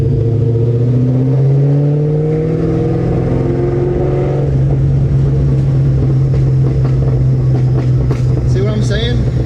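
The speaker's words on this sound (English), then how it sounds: "the backfires would continue to get louder and louder until it sounded like I was just gunshotting every time I downshift" A cammed Boral ATAK Terminator Cobra engine roars loudly and close, its tone sweeping downward as the revs fall, then breaking into a rough, crackling run with scattered sharp popping backfires.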